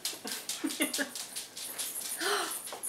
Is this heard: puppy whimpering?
yes